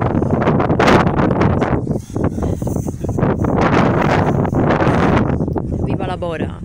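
A strong Bora wind blows across a campsite, rumbling hard into the microphone in sustained gusts while a voice talks over it throughout.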